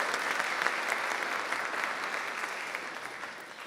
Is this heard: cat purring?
no